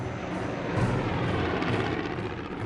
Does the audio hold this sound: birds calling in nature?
no